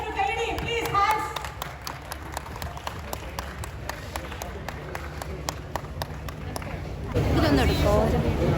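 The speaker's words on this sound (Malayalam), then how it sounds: "നിറഞ്ഞൊരു കയ്യടി പ്ലീസ്." Applause rises at an honoring ceremony: scattered distinct claps build into steady clapping from the audience, with voices and crowd babble mixed in, growing fuller and louder toward the end.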